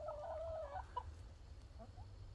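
Hens in a new chicken shack give a drawn-out, wavering cluck followed by a few faint, scattered clucks over a low background hum, with no voices.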